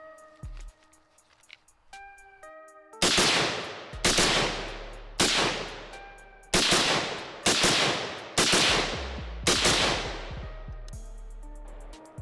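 Rapid semi-automatic shots from an AR-15 Mark 18 clone rifle fitted with a 3 lb Timney competition trigger, fired outdoors as about eight loud, sharp reports in quick strings with ringing echo between them.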